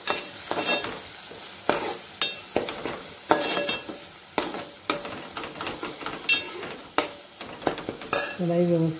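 Masala with red chili powder is stirred and sautéed in a pan for a vegetable dish of peas, potatoes and drumsticks: a steady sizzle broken by repeated sharp scrapes of the spoon against the pan, close and clear.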